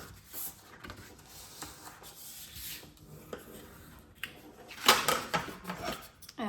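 Paper is creased and folded by hand while making a writing folder craft, with soft rubbing and scraping strokes, a few sharper crinkles and one louder rustle near the end, close up and quiet.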